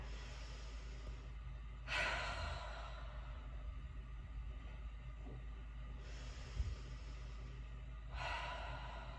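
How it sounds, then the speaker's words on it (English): Slow, deliberate breaths during a holiday Pilates class: a long audible inhale through the nose, then an airy exhale through the mouth, repeated twice at a calm pace with a quiet hum in the background. "inhale through your nose. Exhale through your mouth."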